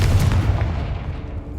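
Confringo fire spell blast in Hogwarts Legacy, a loud booming explosion with a rumbling low tail that fades over a second, no talking.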